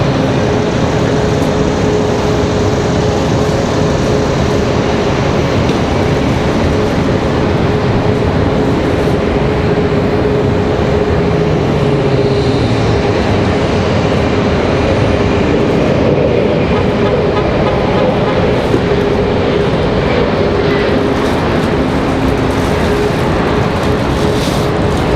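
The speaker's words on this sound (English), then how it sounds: "Got an A321neo there for Frontier Airlines." A Frontier Airlines Airbus A321neo airliner at Raleigh-Durham International Airport gives a loud, steady, continuous roar that holds without a break for the whole stretch.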